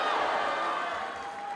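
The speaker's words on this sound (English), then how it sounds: "This crowd screaming every time he's stuck where it lands." Crowd screaming and roaring at a ONE Championship fight, a dense, steady wash of many voices that fades slightly toward the end.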